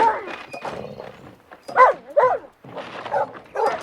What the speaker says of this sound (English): a volley of fierce barks came from the shed